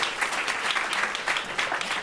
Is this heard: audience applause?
yes